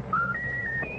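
A pet bird named Raffles whistles a short rising tune, three or four clear sustained tonal notes stepping upward over a faint background hum, brief and fairly close.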